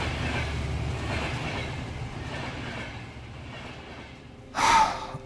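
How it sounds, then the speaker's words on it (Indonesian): A train passes behind a building at night, a steady low rumble with rattling that holds throughout, then a sharper, louder burst of noise near the end. "Aku terentak kaget oleh suara kereta api yang lewat di belakang gedung ini."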